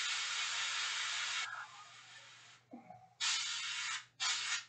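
Paint spraying in hissing bursts: a long steady spray, a pause with a small mechanical click, then two shorter sprays.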